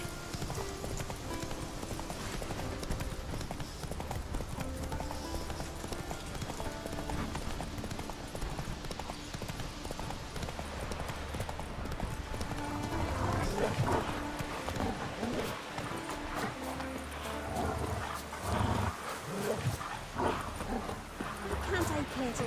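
Roach the horse gallops in Witcher 3, hooves clip-clopping in a quick rhythm with a dog barking and occasional whinnies, game music and voices talking over the action.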